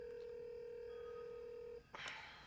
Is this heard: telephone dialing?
yes